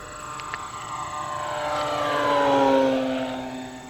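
An FMS Pitts RC biplane on a 6S setup makes a full-throttle pass over a runway, its propeller whine swelling steadily as it approaches, peaking near the end with a falling Doppler pitch, fairly loud with steady wind-like background.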